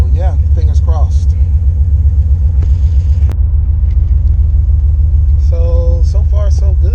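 A turbocharged LS-swapped 1996 Impala SS rumbles with a deep, pulsing low idle and gentle engine throb during a test drive, loud and close from inside the cabin while someone talks over it intermittently.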